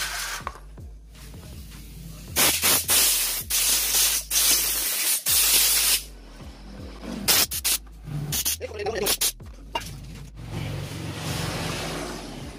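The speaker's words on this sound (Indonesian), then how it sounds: "ini sudah saya semprot dengan menggunakan angin kompresor" Compressed air from a workshop compressor blasts in repeated loud bursts to clean a Yamaha Vixion fuel injector, hissing spurts of varying length over a steady low engine-like hum.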